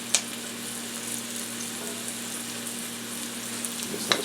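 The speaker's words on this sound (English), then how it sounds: "We'll see if we can't get the onions and the carrots softened up a bit." Onions and carrots sizzle steadily in a pan on the stovetop, a soft, even hiss with a low background hum and a couple of brief clinks near the start and end.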